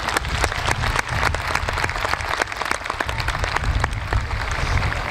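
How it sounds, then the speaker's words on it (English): A crowd at a high school groundbreaking ceremony claps steadily and continuously, a dense sustained round of applause with no voices standing out. "Let's have a round of applause for Caitlin, please."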